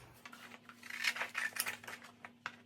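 Scissors snipping through a paper skirt pattern, a series of soft, close crisp cuts and rustles over a faint steady hum.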